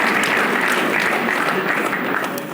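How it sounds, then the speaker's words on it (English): Dense audience applause at a formal gathering saluting Mrs. Yakubu Gowon, steady and full throughout before easing slightly at the very end. "please can we also salute the field marshal, Mrs. Yakubu Gowon, CFR, with a round of applause"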